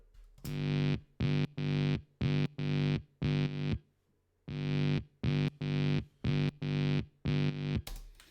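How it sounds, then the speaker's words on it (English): Chopped, distorted sub bass: a gritty overdriven tone in short rhythmic bursts, two phrases of stuttering hits separated by a brief pause. "I ran the sub bass, so the sine wave, through the distortion and recorded it."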